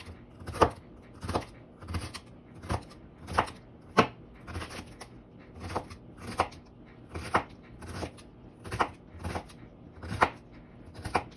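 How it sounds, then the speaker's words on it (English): A knife chops celery on a cutting board in a steady series of sharp, close thuds, about one every second, with no talk over them. "chopping up some celery."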